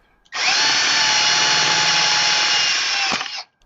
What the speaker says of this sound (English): drill the tap hole